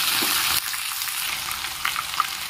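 Ginger-garlic paste frying with cinnamon, cloves and fenugreek in a pan for fish pickle: a steady, loud broadband sizzle that drops slightly partway through, with a few faint clinks and no talking.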